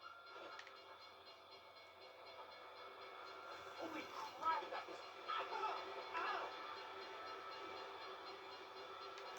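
Train passing in a video game, a steady rumbling roll with hissing and clattering that swells in the middle, heard fairly faint under game sounds.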